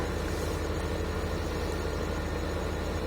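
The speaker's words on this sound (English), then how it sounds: "We have a tractor designed for the field." Steady drone of a field tractor's engine in the Farming Simulator 2015 video game, a constant low idling rumble with an even pulsing throb, loud and unbroken throughout.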